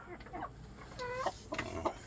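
A chicken, an Ayam Kitawa breed, clucks and makes short throaty calls close by, a few brief bursts over faint background hiss.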